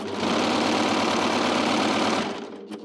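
An Amber Air S 600 overlocker runs at steady speed with a dense, even mechanical whir of rapid stitching that holds loud for over two seconds, then stops and leaves a couple of faint clicks.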